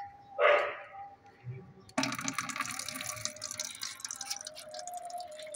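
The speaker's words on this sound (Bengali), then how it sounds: "এখানে কলটা চালিয়ে দিই" A tap is turned on to fill a bucket: after a short bark-like yelp and a quiet pause, water suddenly gushes and splashes steadily into the bucket, close and continuous until the end.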